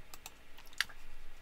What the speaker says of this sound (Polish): korzystając z klawiatury na komputerze